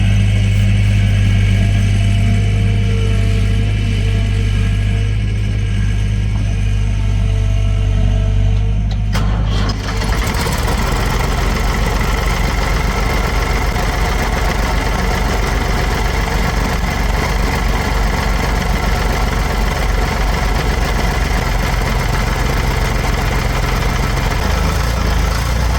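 A vehicle engine idles loudly and steadily, then shifts around the ten-second mark as it drives off the stump it was resting on as a jack stand, running on with a continuous mid-pitched drone.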